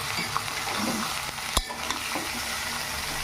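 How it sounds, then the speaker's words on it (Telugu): Boiled broad beans are stirred with a ladle in a frying pan, giving a steady sizzle with soft scraping and a sharp metallic clink partway through, close up and with no voices. "శుభ్రంగా గరిటె పెట్టి కలిపించుకుందాం"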